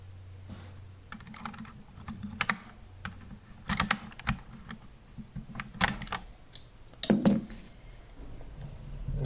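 Typing on a Keychron K2 mechanical keyboard with aluminum frame, RGB lighting and Gateron Brown switches: close, irregular clacky keystrokes in quick runs and single presses, with no talking.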